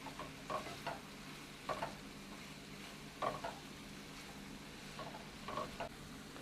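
Callaloo sizzles in a pan with okra while being stirred, a soft continuous frying hiss broken by periodic scraping stirs, quiet and close.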